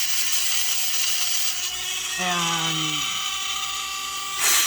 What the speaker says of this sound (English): now you can see the drill bit coming through